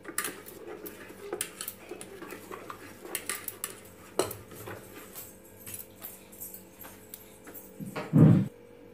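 Dosa batter being whisked in a container, giving soft scraping and clinking against the sides with a few sharper knocks and one louder thump near the end, close and fairly quiet with no talk.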